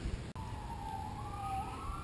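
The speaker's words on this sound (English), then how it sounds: "we're hearing those sirens" An emergency vehicle siren wails at a distance, a single rising and falling tone sweeping steadily over a low background rumble, with no talking.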